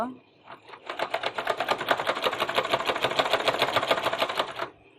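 A freshly oiled household sewing machine runs in a fast, even mechanical clatter for several seconds, close and fairly loud, starting and stopping cleanly with a bit of handling noise before it begins.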